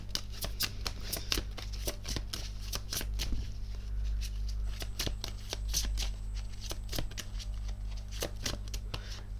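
Tarot cards are shuffled close up, making a dense run of quick, crisp riffling flicks and slaps that continue steadily and softly throughout, with no talking.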